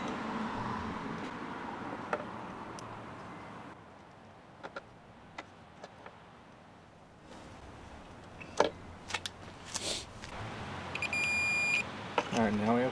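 A multimeter gives a continuity beep near the end, a short high tone with harmonics, after scattered clicks and handling noise while testing the rear LED turn signal wiring of a 2018 or later Subaru Crosstrek.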